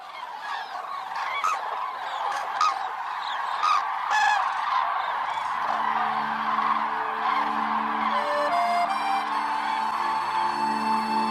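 A departing flock of cranes on the Hungarian puszta along the Danube, a steady chorus of many bugling, honking calls layered together, fairly loud and continuous, with a low tonal drone rising beneath in the latter half.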